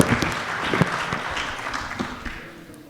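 A dense burst of audience applause at a Hindi poetry gathering welcoming poet Sudeep Bhola, loud at first and gradually fading over a few seconds.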